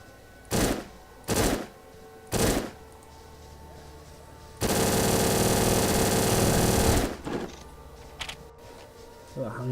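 Hand cannon gunfire in the video game Jinni: three sharp, loud shots in quick succession, then a sustained roaring burst lasting a couple of seconds, followed by quieter clatter.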